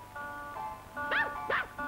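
A small dog, a gift puppy, gives two short, high yipping barks in a row, close and fairly loud, over a faint steady background hum.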